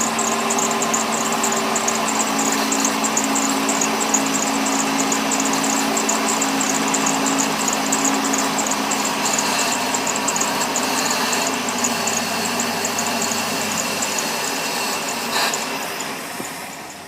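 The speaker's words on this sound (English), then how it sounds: "you can hear the engine start to stumble" A sterndrive boat engine with a carburetor runs steadily in a garage while Bel-Ray 6-in-1 oil is sprayed into its throat for fogging, a close, loud idle hum that starts to stumble and fades toward the end.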